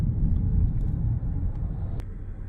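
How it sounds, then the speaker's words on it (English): Inside an MK2 Audi TT 3.2 Quattro fitted with high-flow cats and downpipes, a deep engine and exhaust drone rumbles steadily and loudly through the cabin, with one sharp brief transient near the end. "I'm gonna do a launch from inside the car right now so you can see how it sounds."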